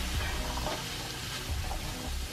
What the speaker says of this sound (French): maintenant que mes oignons sont bien translucides, je rajoute mes pois chiches bien rincés et bien égouttés